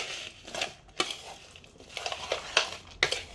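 Raw mango pickle being mixed by hand with salt, chili powder and mustard powder, giving irregular scraping and clinking strokes against a vessel, close and fairly quiet, with a few sharper knocks.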